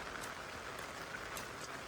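Steady rain falling over rice fields during a rainy-season downpour, a soft continuous broadband hiss with faint scattered drop patter, fairly quiet and even throughout with no voices.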